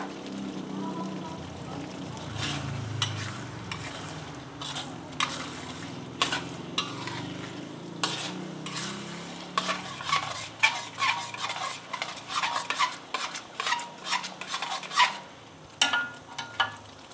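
Bean sprouts stir-fried in a wok for satay bee hoon, with steady sizzling and frying and repeated scraping and clanking of a spatula against the pan, growing busier and louder toward the end; faint voices murmur in the background.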